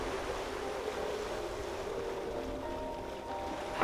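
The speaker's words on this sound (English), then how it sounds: "it's blowing an inflow wind in here and we're getting some pretty significant" Steady wind gusts roar over a sailboat lying at anchor in a deep, remote Canadian fjord anchorage, a continuous broadband rush that stays close and even, with a faint tonal hum underneath and no voices.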